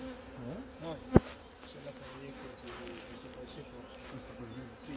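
Honeybees buzz steadily at a hive being transferred to another hive, a close, continuous droning hum with a single sharp click early on.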